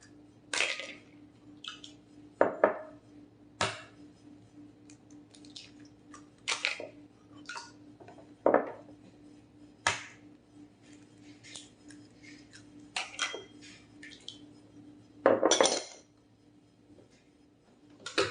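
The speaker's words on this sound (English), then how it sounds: "All right, it's time to add the eggs. You're going to use 3 eggs." Three eggs are cracked into cake batter of water and oil in a quiet kitchen, heard as sharp, isolated taps and cracks spaced a few seconds apart, close and crisp.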